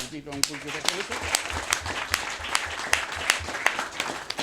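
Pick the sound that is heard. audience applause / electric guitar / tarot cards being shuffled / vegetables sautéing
audience applause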